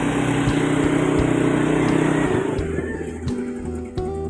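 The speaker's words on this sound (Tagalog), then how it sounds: "pinainit muna namin yung makina" A Hyundai Santa Fe engine warming up from cold, a loud steady mechanical drone close by that shifts and drops in tone partway through, with a few sharp knocks.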